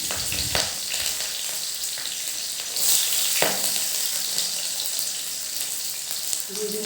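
Green chillies and garlic hit hot oil with leafy greens in a pan, giving a steady, close sizzle and crackle. A spoon scrapes and stirs now and then, with a soft voice underneath.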